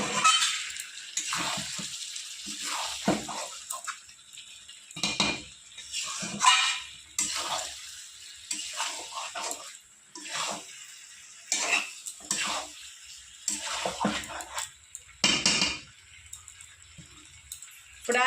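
Goat liver and new potatoes being stirred and fried down in a pan with a spatula, repeated scraping and clattering strokes in bursts, close and moderately loud with no talking.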